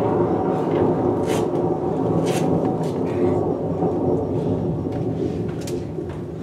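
Thunder sound effect rumbling through a theatre stage during a play at the Avignon OFF festival, a loud, sustained roll with crackling bursts that fades slightly toward the end.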